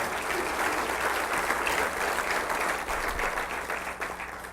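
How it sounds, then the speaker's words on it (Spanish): Church congregation applauding during a sermon, a steady, dense wash of many hands clapping at close range, sustained throughout without talk. "Dele un aplauso al Rey Jesús."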